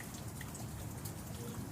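Rain falling during an afternoon outdoor barbecue, a soft, steady patter of drops on surfaces, faint and continuous in the background with no speech.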